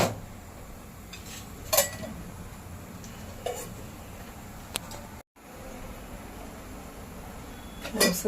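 Grated coconut dry-roasting in a pan for a ridge gourd peel chutney, heard as a quiet background hum with a few sharp metallic clinks of a spatula against the pan, spaced a second or two apart.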